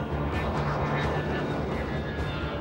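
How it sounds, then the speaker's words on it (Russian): A Soviet M-4 strategic jet bomber roars low over Moscow rooftops, a loud, continuous broadband engine rumble with a faint whine riding on top, steady throughout with no voices. "Неожиданно над крышами домов Москвы, на высоте всего лишь 250 метров, прогремел реактивный гигант."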